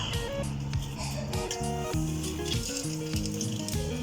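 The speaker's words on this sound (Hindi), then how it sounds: "तो मैंने सबसे पहले 1 कप ऑयल ले लिया था, उसे पहले से गरम करने के लिए रख दिया था। इसमें हम डालेंगे साबुत गरम मसाला।" Whole garam masala spices dropped into a cup of preheated oil, giving off a steady, moderately loud sizzle and crackle with faint clinks of a utensil throughout.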